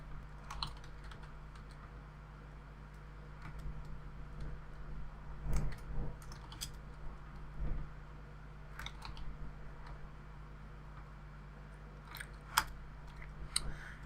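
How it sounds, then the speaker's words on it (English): Quiet, close computer keyboard typing in irregular clusters of soft clicks and taps, pausing between short runs, over a steady low background hum with no talking. "Forgive me if I type that wrong"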